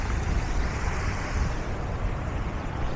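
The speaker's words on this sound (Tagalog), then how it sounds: "May batis." A small stream flows into a garden pond near the Mori Art Museum, making a constant, even rush of water with no breaks or other sounds.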